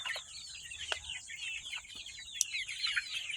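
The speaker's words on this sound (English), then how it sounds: "So we do have a few cockerels in there." Chickens, including a few cockerels, cluck steadily in a coop, overlapping bursts of clucking with a few sharper squawks, fairly close and continuous throughout.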